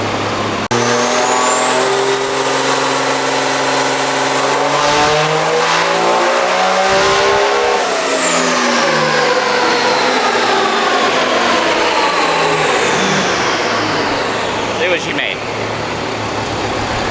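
Tuned truck engine on a tune test, revving hard with a steadily rising whine that peaks and then falls away as the engine winds down, loud and close, a sustained roar throughout.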